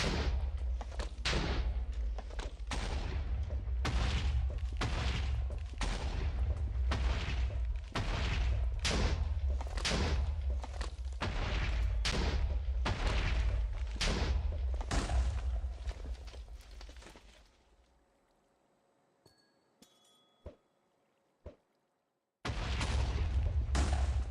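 Grenade explosions in a video game come as a rapid series of loud booming blasts, one after another for about seventeen seconds, then a near-silent stretch with a few sharp clicks before the blasts resume.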